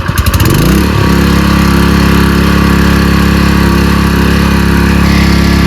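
A small water pump engine drawing water from a well sputters to life and settles into a loud, steady, close-up running drone that continues without a break.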